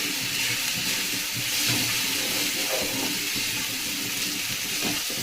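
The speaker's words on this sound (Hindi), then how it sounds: "इस तरीके से पेस्ट को मैं अच्छे से भून लेती हूँ।" Garlic, ginger and onion paste frying in a pan for a lauki (bottle gourd) curry, giving a steady close hiss and sizzle throughout with soft scraping clicks and no voices.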